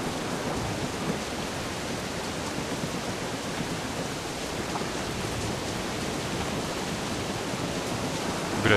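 Steady rain falls in the Assassin's Creed IV Black Flag video game, an even, dense hiss that stays loud and unbroken throughout with no voices.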